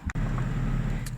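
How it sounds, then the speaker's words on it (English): A car engine idles steadily after a throttle body cleaning, a low even rumble heard from inside the car with a brief click near the start. "so we're in the car and it's running"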